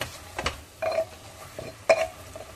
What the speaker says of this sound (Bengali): এটাকে একটু ভালো করে মিশিয়ে নেব, যাতে মশলাগুলো আলুর সাথে ভালো করে মেশানো হয়ে যায়।